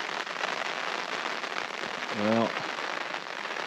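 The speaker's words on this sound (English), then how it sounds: "started raining in here." Rain patters on a shelter in a wooded corridor, a close, steady crackling hiss that runs throughout, briefly broken by a short spoken word.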